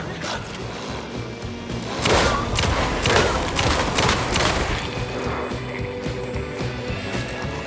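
Gunfire in the Alan Wake II horror game, Night Springs episode: several sharp bursts of shots clustered mid-clip over a dark mechanical ambience, loud and close, with no speech.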